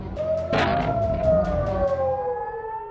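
A wailing air raid siren in Israel, sounding during an Iranian missile attack, rises and falls steadily, its long tone sliding downward as it fades, with no voices present.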